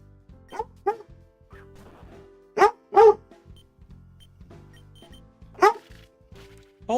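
A dog barking a few times indoors, sharp separate barks in short pairs, fairly close, with quieter thuds and background noise between them.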